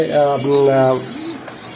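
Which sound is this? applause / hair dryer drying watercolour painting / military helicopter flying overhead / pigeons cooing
pigeons cooing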